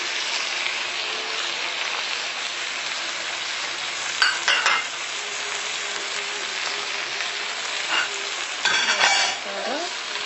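Chopped shallots sizzle steadily in a hot pan while being stirred for a spicy tuna and egg sambal, with a few louder scraping clatters of the spatula against the pan; no talking.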